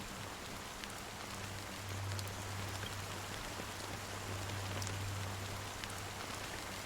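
A fine drizzle of black rain falls steadily in the Penacony area of the video game Honkai Star Rail, a soft constant hiss of drops with a low hum beneath, quiet and even throughout.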